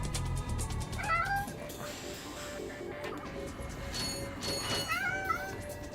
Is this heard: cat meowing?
yes